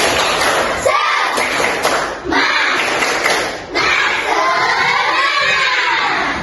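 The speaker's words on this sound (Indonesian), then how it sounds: "Kita tepuk semangat dulu. Tepuk semangat" Schoolchildren in an Islamic religious education class perform the tepuk semangat clapping chant, loud and close, with shouted voices in unison broken by sharp rhythmic claps and thuds.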